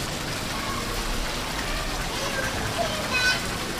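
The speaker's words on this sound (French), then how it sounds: "Regarde, là, ça coule, là." A water cascade pours steadily into a warm swimming pool, splashing in a continuous wash of noise, with faint voices nearby.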